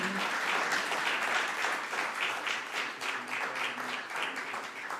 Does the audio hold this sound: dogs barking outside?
no